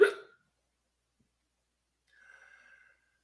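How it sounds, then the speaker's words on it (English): A man's single sharp hiccup at the start, close and abrupt, followed by silence and a faint breathy exhale or murmur a couple of seconds later. "I got the hiccups for some reason."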